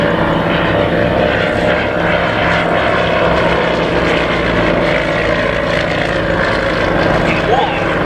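A vintage 1930s propeller aeroplane flies past at the Shuttleworth air show, its engine drone steady and loud throughout, with faint voices beneath.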